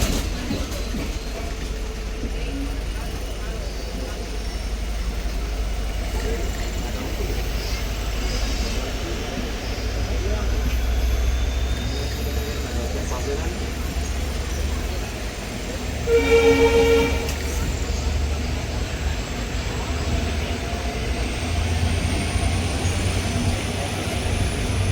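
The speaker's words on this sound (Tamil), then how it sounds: "கிளிநொச்சி ரயில்வே ஸ்டேஷனுக்கு சரியா 2:11 வந்திருக்கு பாருங்க" A Colombo–Jaffna passenger train pulls into Kilinochchi railway station, a steady rumble of rolling wagons running throughout with a short horn-like tonal burst partway through, fairly loud and close with no talk.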